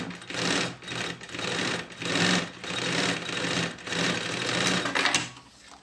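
Sewing machine stitching a seam on a fabric lunch bag panel, right sides together, running in steady bursts with brief pauses between passes, close and continuous.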